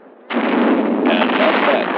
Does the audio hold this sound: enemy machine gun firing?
yes